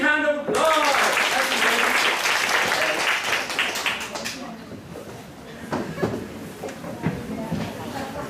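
A classroom audience of students bursts into loud applause that starts abruptly and gradually thins out, with some voices and chatter mixed in.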